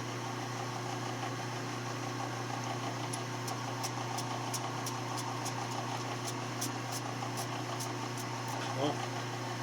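A lathe runs steadily while a reamer cuts a rifle chamber with a squirt of coolant, giving a constant mechanical hum, with faint repeated ticking clicks over the middle of the run and no talk.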